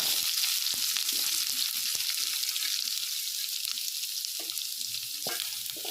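Chopped onion sizzles and crackles steadily in a hot pan, with occasional soft clicks and scrapes from stirring.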